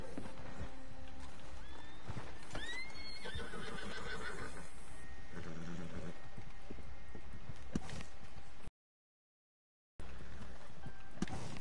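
Hooves clip-clop rapidly as a horse runs in Red Dead Redemption Online, with a loud neigh or whinny early on, followed by a brief total dropout of sound.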